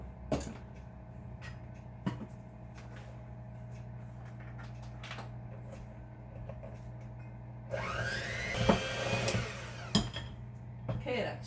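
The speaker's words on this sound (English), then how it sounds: "now I'm gonna whisk this together, beat it together." A mixture being whisked and beaten in a home kitchen until smooth and creamy, with a steady motor-like hum throughout and brief knocks, swelling into a louder, rougher whirring stretch near the end.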